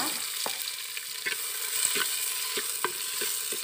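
Onion and tomato frying in oil in a pan outdoors, a steady soft sizzle punctuated by repeated sharp scraping and stirring clicks of a spoon against the pan, moderately close.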